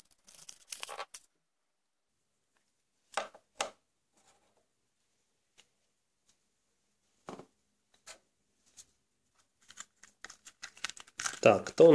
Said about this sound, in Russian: Так, дальше открываем следующее яйцо.